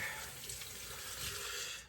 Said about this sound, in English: just rinse the hands real quick